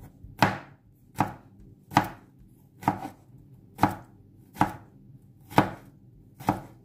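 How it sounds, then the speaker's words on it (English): Eight crisp, evenly spaced knife chops slice through garlic on a cutting board, each stroke sharp and close, with quiet pauses in between and no talking. "So I'm just going to slice my garlic."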